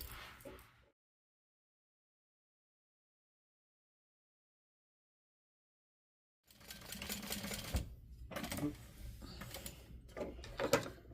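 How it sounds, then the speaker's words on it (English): A sewing machine back stitching fabric for a lap pillow whirs in rapid, close stitching bursts after a long silence, stopping and restarting several times with brief pauses. "I'm going to back stitch well here and here, and then I'm just going to go around where I am clipped"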